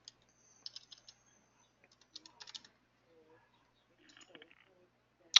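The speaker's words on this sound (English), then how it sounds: "I'm just going to type it in." Typing on a computer keyboard in a quiet room, short soft clusters of key clicks with pauses between them and one louder click at the end.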